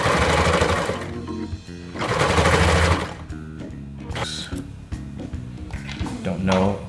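Sewing machine stitching fabric for a baby Star Trek costume, running in two loud sustained bursts with a steady mechanical whir, alongside quieter handling clatter and a voice talking over parts of it.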